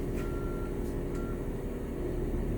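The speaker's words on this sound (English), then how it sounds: "And I hear the backup buzzer." A school bus backup alarm sounds while in reverse: two short steady electronic tones over a loud, continuous diesel engine rumble.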